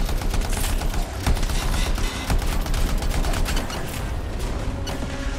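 Continuous dense gunfire fills a battle in the video game Anthem, a loud rapid rattle of overlapping shots with booming impacts that keeps up without pause.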